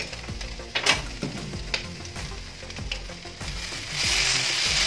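Fish pan-frying for tortang isda, a close sizzle with scraping and clattering stir strokes, the frying hiss swelling louder near the end.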